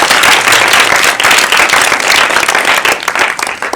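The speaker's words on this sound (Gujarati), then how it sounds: "જોરદાર તાળી પાડો." Loud, dense clapping from a cinema audience at a screening of the Gujarati film Laalo - Krishna Sada Sahaayate, a continuous wash of many hands sustained throughout.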